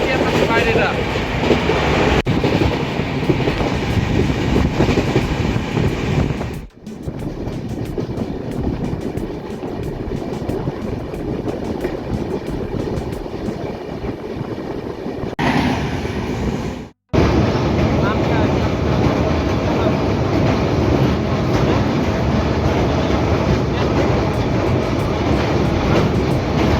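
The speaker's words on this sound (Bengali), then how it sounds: "গতিবেগ নিয়েছে ট্রেন" The Purushottam Express picks up speed on its run toward Bhubaneswar, heard from inside as a loud, continuous rumble and rattling clatter of the carriages, broken by two brief sudden dips before the roar returns.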